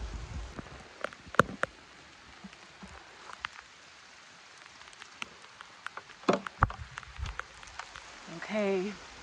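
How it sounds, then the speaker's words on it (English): Rain falls softly in a garden during sweet potato planting, with scattered close drips and taps over a quiet background and a short burst of speech at the end. "Oh my goodness, I love this rain so much."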